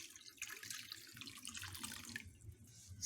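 Reserved water, about 500 ml, poured into a pot holding 3.5 litres for home-brewed pale ale: a steady splashing pour that runs for about three seconds, moderately loud and close, with no talk.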